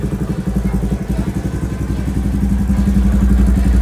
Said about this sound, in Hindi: यहाँ पर R1M वाला एग्जॉस्ट है। इसका साउंड भी आपको सुना देते हैं कैसा है।